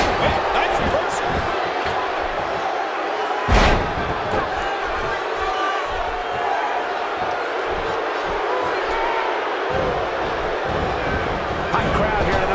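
Constant crowd roar from a packed arena during a fatal four-way match in the wrestling game WWE 2K16, a steady wall of cheering with brief slam-like thuds and commentary talk over it.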